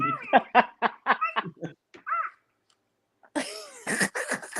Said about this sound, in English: Oh, he sneezed.